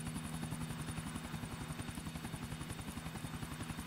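A helicopter flies in GTA IV, its rotor beating in a steady, fast pulsing thrum over a constant engine whine, fairly loud and close throughout.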